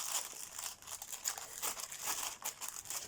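A parcel is pulled from a plain plastic shipping bag, giving close, continuous crinkling and rustling with soft crackles throughout and no talk.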